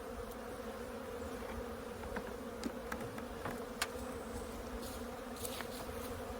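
Honey bees buzz around an open beehive box outdoors, a continuous soft drone with scattered individual bees darting close past the microphone in brief louder passes.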